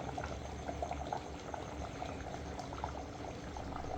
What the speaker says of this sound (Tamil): ஸோ இந்த அளவுக்கு குழம்பு நல்லா கொதிச்சிருச்சுன்னா உங்களுக்கு கரெக்டாக இருக்கும்.